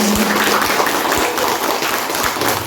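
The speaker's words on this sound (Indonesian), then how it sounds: "Tepuk tangan dulu untuk panjenengan" Audience applause at an elementary school zikir gathering, rewarding a student's answer: dense, steady clapping from a group, moderately loud and continuous throughout.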